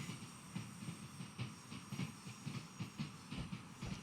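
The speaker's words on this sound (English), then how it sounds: "You can hear the Pendolino going over the track joints" A Pendolino train in the Train Sim World 6 video game rolls over track joints at Crewe station, producing a steady rhythmic clickety-clack under a constant hiss and rumble, fairly faint and without voices.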